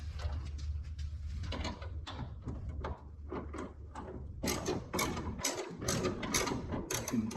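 A socket wrench with a ball-end socket turns a hood alignment bolt, giving a close run of quick ratcheting clicks in bursts over a low background hum, with no talk.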